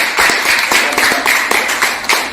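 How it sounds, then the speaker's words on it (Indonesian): A seminar audience claps for a health therapy presentation, with close, distinct, uneven hand claps repeating in bursts for a couple of seconds. "Boleh tepuk tangan dong"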